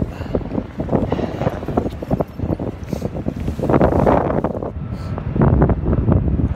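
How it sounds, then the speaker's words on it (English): Strong wind buffets and roars across the microphone in gusty, uneven bursts, loud and continuous throughout, on a stormy day at Port Botany in Sydney. "Starting to get very windy."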